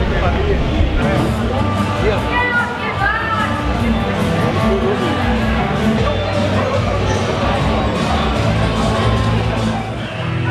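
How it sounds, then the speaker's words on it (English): A crowd gathers outside the Western Saloon bar on the British strip in Benidorm in the early evening, with a constant loud babble of many voices, mixed chatter and bustle, and nearby talk running throughout. "Good crowd building outside the Western tonight then."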